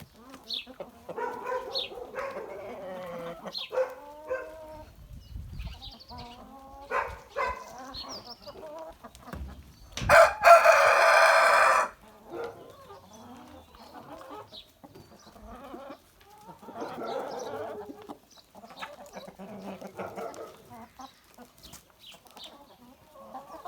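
Jersey Giant hens cluck on and off at close range, with a brief loud burst near the middle, amid scattered farmyard noises.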